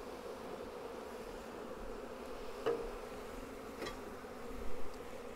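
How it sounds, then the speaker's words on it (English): During a Flow Hive brood inspection, close honey bees give off a steady, dense buzzing hum with a few louder passes of single bees near the microphone. No one talks over it. "I've noticed they've changed tune a little bit, where it's slightly more agitated with the disturbance of the brood inspection."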